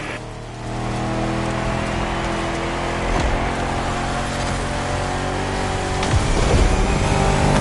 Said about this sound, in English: you've embarked on a 4x4 race through the jungle